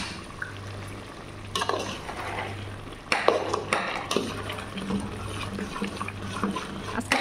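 Potato and eggplant cook in a pan with a steady low sizzle and bubbling, broken by a few sharper stirring scrapes and clatters; a low hum runs underneath and nobody speaks.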